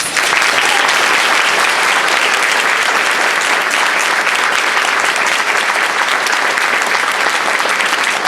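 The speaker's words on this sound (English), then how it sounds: "Can we please give her a round of applause?" Sustained audience applause at a Woman of the Year awards ceremony, loud, dense and steady for the whole stretch with no talk over it.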